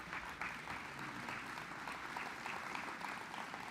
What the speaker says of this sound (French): Une bonne main d'applaudissement pour Francis Parisien